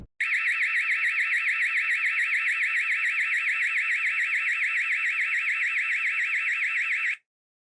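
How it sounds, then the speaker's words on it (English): The built-in speaker of a Dahua DH-IPC-HDW3849HP 8MP IP camera wails an electronic alarm siren continuously in a fast, steady warble for about seven seconds, loud and alone, then cuts off abruptly. "this isn't an accurate depiction of how loud the alarm on the camera is"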